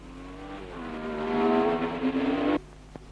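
A 1962 Formula One race car at the Rouen-Les-Essarts circuit roars past, its engine note rising in pitch and volume before cutting off abruptly, with no talk over it.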